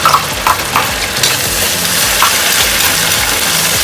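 Chili peppers fry in a pan with softened onions for kampung-style fried rice, giving a continuous close sizzle broken by scraping stirs.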